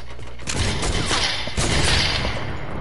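A minigun spammed in a video game, a continuous dense rattle of rapid-fire shots with booming low thumps, loud and unbroken for nearly three seconds.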